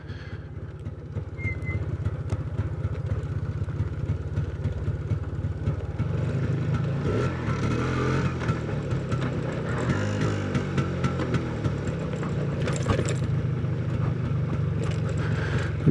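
An MZ ETZ 250 or 251 motorcycle rolls downhill toward a waterfall park near Erciyes, its engine a steady low drone with wind rush and a faint rattle, continuous and close for the whole stretch.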